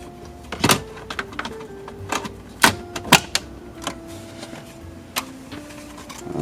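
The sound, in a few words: Lexus LX 470 air vents snapped back in by their pins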